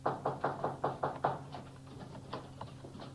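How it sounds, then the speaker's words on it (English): A fist raps urgently on a wooden door in a radio drama, seven rapid heavy knocks in a steady run, then a few softer scattered taps as it tails off. "he was roused by an urgent knocking at his door"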